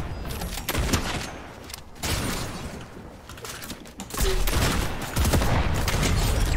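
Fortnite Zero Build gunfire comes as repeated loud, sharp bursts in irregular clusters, with a heavier barrage near the end and faint voices now and then.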